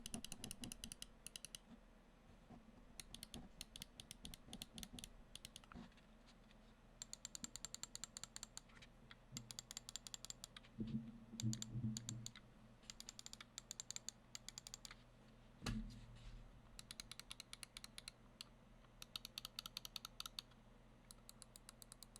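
Rapid bursts of crisp, light clicks from a Razer Viper Mini gaming mouse's buttons come in clustered runs with brief pauses between them. The clicks are close-miked and quiet, with no voice over them.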